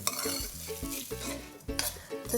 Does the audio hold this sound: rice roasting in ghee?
yes